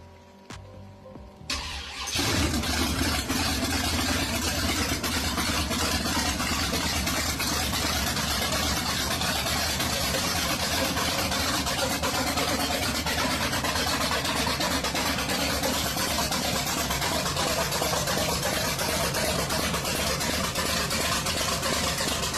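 A 1931 Ford Coupe hot rod engine cranks over and catches after a brief quiet moment, then settles into a steady, loud, rumbling idle that continues unbroken, close up with no voices.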